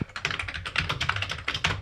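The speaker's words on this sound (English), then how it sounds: "Amiga 600 computer keyboard is not bad. Listen to this." Typing on an Amiga 600 computer keyboard, a rapid run of close, crisp key clicks with no one talking.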